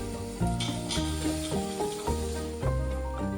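Beef sizzles loudly in a hot pan while being stirred, a continuous close frying hiss broken by repeated scraping knocks of the spoon against the pan in a home kitchen.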